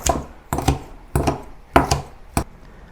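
Knife chopping through fresh watercress on a board, five separate firm cuts spaced about half a second apart, close and clear with no talk.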